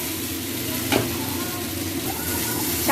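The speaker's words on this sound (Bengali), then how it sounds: "চালটাকে এবার ভালো করে আমি ভেজে নেব।" Raw rice being fried and stirred in a pan with roasted nuts for basanti pulao, giving a continuous close sizzle with a few scraping stir strokes.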